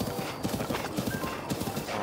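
Horse hooves clip-clopping in Zelda Breath of the Wild, a quick steady trot of close hoofbeats running throughout, with faint talk underneath.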